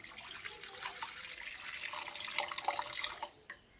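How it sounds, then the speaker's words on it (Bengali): Hot water is poured into a pan of vegetarian omelette curry, a steady splashing liquid pour running for several seconds before tapering off near the end. "এবার আমি এর মধ্যে পরিমাণ মতো গরম জল অ্যাড করে দিচ্ছি।"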